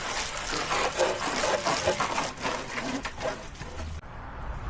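Water sprays steadily onto a motorcycle in a broadband, splashing rush that holds nearly constant, then cuts off abruptly near the end, leaving a low rumble.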